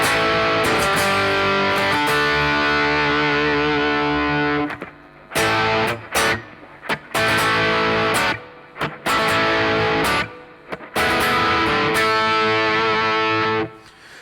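A heavily distorted electric guitar with P90 pickups and 500K pots rings out in loud sustained chords, broken by several abrupt stops and short silences between bursts.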